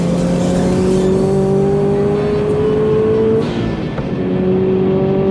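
Subaru BRZ accelerating hard on a race track at a supercar meet, a loud steady engine drone climbing in pitch through the gears, with a brief dip near the end before rising again.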